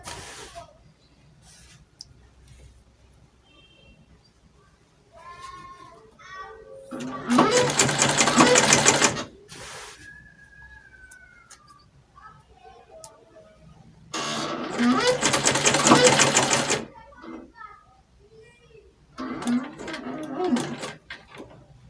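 A sewing machine stitching a dress runs in three loud, steady bursts, separated by quieter pauses in which a person speaks.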